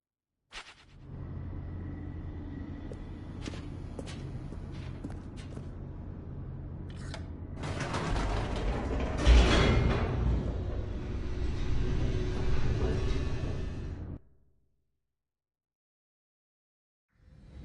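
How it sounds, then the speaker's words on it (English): In The Stanley Parable, an elevator descends with a continuous low mechanical rumble and rattling that swells midway, runs for about fourteen seconds, then cuts off abruptly into silence. "The elevator raced downward, plummeting towards an unknown fate"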